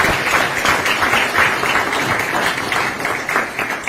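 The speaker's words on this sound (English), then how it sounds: "a round of applause to thank President Ruto." An audience at a business roundtable with Kenya's President Ruto and U.S. and Kenyan participants bursts into loud, sustained applause, a dense wash of many hands clapping close by for several seconds without speech.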